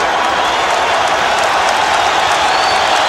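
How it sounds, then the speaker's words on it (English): A boxing arena crowd at a heavyweight bout stands and cheers late in the eleventh round, a loud, dense and steady wall of applause and roaring voices filling the hall throughout. "And the crowd stands and cheers."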